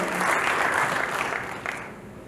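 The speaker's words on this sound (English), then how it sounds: "could we have a huge round of applause for Mr. Hemant Kaushik" An awards ceremony crowd claps steadily, a dense wash of applause that holds fairly loud, then thins and fades toward the end.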